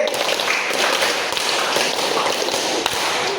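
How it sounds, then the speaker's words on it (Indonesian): Students in a madrasah classroom clap a five-beat rhythm pattern twice in unison, a steady wash of many hands slapping together, loud and near with little pause between beats. "tepuk 5 2 kali"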